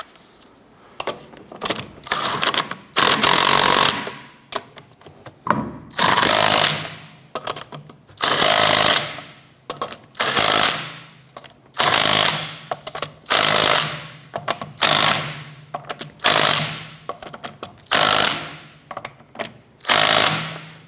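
Power tool, likely an impact wrench, snugging down rear sway bar bolts on a 2006-2013 Chevrolet Impala: about a dozen loud, close bursts of rattling whir, each a second or so long, repeating steadily with short gaps between.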